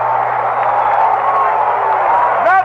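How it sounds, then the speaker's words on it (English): Baseball stadium crowd at a Los Angeles Dodgers vs St Louis Cardinals game reacting to a long foul ball, a broad sustained roar of many voices with a steady low hum beneath, swelling briefly at the end. "Listen to the crowd."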